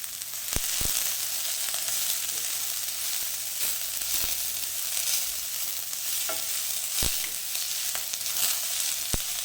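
Green chilies and capsicum sauté with long-cut carrot in a pan for Schezwan noodles, giving a steady close sizzle throughout with occasional sharp clinks of a spatula stirring.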